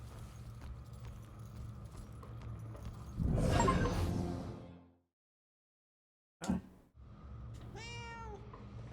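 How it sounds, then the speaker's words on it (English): Cat meowing in the Murdered: Soul Suspect video game, a short series of rising meows near the end after hoof-like clopping, a burst of noise and a silent gap. "Shoo, cat, get out of here."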